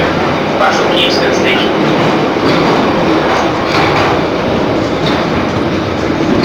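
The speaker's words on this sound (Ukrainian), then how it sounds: "коли поїзд почне притихати, треба виходити" Metro train running in a Kyiv-area underground line, a loud steady rumble with clattering wheels that eases slightly as it slows, with people talking over it.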